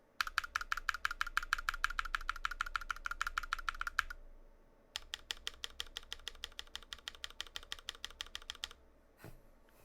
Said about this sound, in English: let's do an actual typing test here